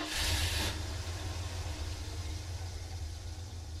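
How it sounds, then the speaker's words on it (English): A pickup truck engine idles with a low, steady rumble after a short hiss at the start, holding an even, moderate level throughout with no other sounds. "Pickup truck."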